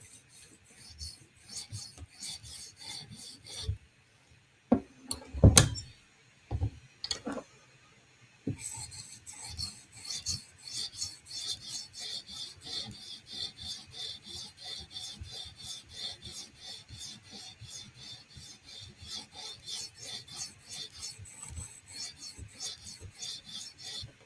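Steady rasping strokes of a knife drawn across a 400 grit sharpening stone, close and continuous, with a few sharper knocks and pauses early on before a long run of regular scraping passes.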